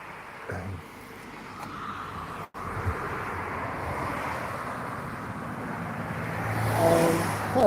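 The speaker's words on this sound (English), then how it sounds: "Quite a bit of traffic out here for this time of night." Road traffic rushing past at night along an overgrown roadside on an evening walk: a steady broadband roar of passing vehicles that swells toward the end, with a brief drop in between, fairly close and without speech.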